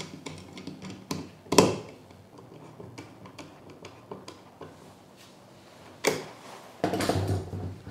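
Parts being fitted and tightened on a Stanley Fatmax SCN618 cordless brad nailer: a few sharp clicks and taps with ratcheting mechanical handling, close and moderately quiet, with no talk.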